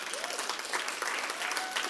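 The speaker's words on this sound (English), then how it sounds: "Not used to so much clapping." Audience at a business talk on financial freedom claps together in a sustained, even burst of applause, a soft wash of many hands heard at some distance, with no one speaking.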